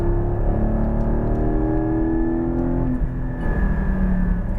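A Porsche 718 Cayman GT4 accelerating out of a corner, its engine note climbing steadily in a loud, close, sustained drone, with a brief dip and shift in pitch before pulling again.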